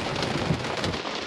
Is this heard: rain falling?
yes